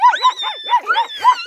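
A boy imitates two dogs fighting, voicing about six quick, close yelping snarls and barks in a steady, choppy rhythm, loud and alone.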